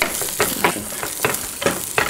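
Onions and pancetta frying in a pan, a close sizzle broken by repeated stirring scrapes in an uneven rhythm, with no voices.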